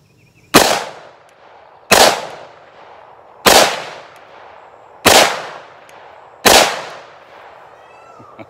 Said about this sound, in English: That was, I think, 4 shots.